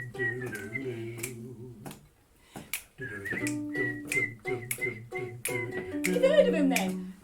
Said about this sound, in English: I'm going to demonstrate my dancing and whistling because I find it calms my anxiety